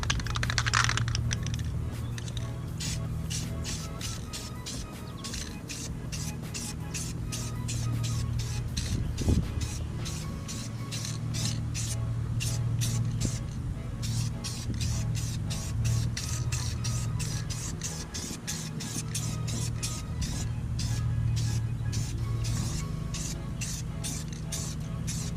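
Spray paint hisses onto a steel wheel in light coats, a long run of short, evenly repeated bursts over a low steady background hum, close and moderately loud.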